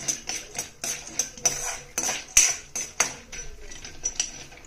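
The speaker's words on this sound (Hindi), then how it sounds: "थोड़ा सा पीनट हम पैन में डाल के इसको गरम कर लेंगे फ्राई।" Pre-roasted peanuts tossed and heated in a pan for poha, giving repeated clinking and scraping of a spoon against the metal pan in an irregular rhythm, close and moderately loud, with no talking.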